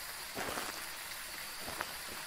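Heavy rain falling over Camp Woodwind in the game Phasmophobia, a steady wash of hiss with a few louder drop-like ticks, close and continuous with no talking.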